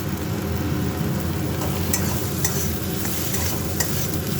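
A thick paste fries in oil while a spoon stirs it, giving a steady loud sizzle and bubbling with repeated scraping strokes against the pan, close and with no voices.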